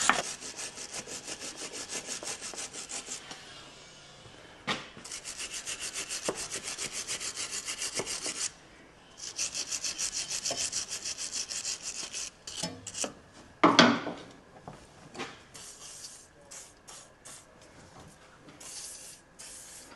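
Wire brush scrubbing Land Rover Defender steering bar parts, rapid rhythmic rasping strokes close by, pausing briefly and then resuming, with a few scattered knocks and clanks of metal near the end.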